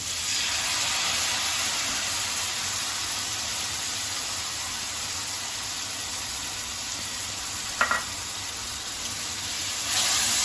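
Spice paste frying in oil in a pan for a ghugni of peas and potatoes gives a steady, close hiss throughout, with a brief clatter near the end.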